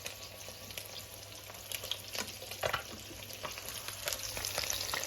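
Fish coated in turmeric, salt, garlic and masala fries in hot oil with a steady, close sizzle and crackle throughout, swelling louder in bursts near the middle and end, with no talking.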